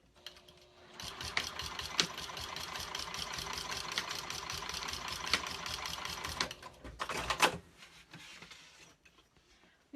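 A Juki 2000 QI sewing machine stitching vinyl, a fast continuous mechanical whir with rapid needle clatter running several seconds, stopping briefly, then a short final burst before trailing off.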